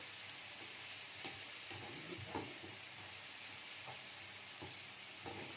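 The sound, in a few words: onion sautéing in a pan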